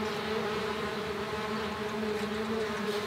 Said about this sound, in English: There's some bees flying around.